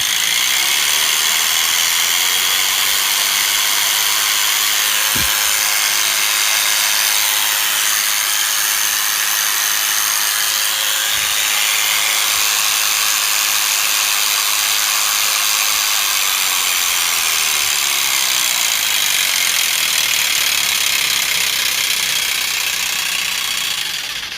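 A heavy-duty electric animal hair clipper with a copper motor hums continuously at high speed, loud and close, with a steady buzzing whine and no talk over it.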